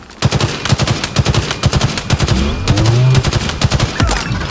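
Rapid automatic gunfire in the video game Halo Infinite during an Oddball match, dense bursts of shots cracking in quick rhythm with layered weapon effects, close and loud throughout.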